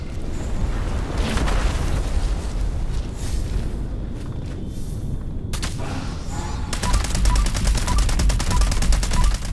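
A perforating magazine gun fires in Fallout 76, a dense stream of rapid shots that thickens into a steady rattling burst toward the end, loud and close, with a voice at times underneath.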